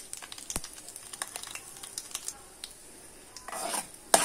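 Lentils and a dried red chilli fry in a small pan for a cucumber-tomato curry, with a faint sizzle under repeated spoon taps and clinks, then a brief louder burst near the end.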